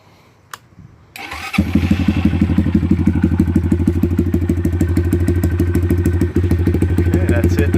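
An SSR Razkull motorcycle in a garage setting is cranked and fires up after about a second, settling into a loud, close, lumpy idle with a steady rapid thump, a few quiet clicks before the start.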